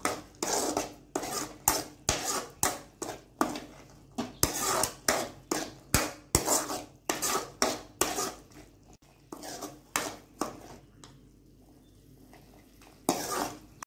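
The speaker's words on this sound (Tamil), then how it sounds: "இப்போ இதோட நல்லா மிக்ஸ் பண்ணிக்கலாம்." A spoon knocks and scrapes rhythmically against a pan while boiled peas are mixed into masala for masala sundal, a run of close, loud clatters with a short quieter pause before the strokes resume.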